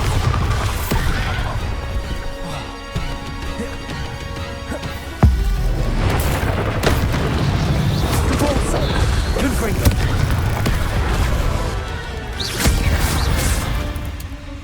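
Confringo and Bombarda blasting spells in Hogwarts Legacy burst out as loud booms and crashes over a busy combat bed, with whooshes and repeated impacts building into near-constant fiery noise.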